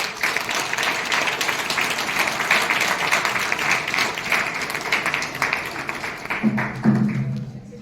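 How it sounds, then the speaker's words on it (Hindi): Loud, dense audience applause fills a hall at a direct-selling success event in Ranchi, steady for several seconds before tapering off as a voice starts speaking near the end. "एक बार जोरदार ताली चाहेंगे सर के लिए।"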